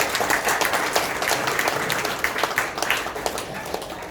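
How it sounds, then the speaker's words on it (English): A live audience at a spiritual science talk with Swamiji claps steadily, dense broadband applause running the whole time with no speech over it. "Give a big clap to Swamiji."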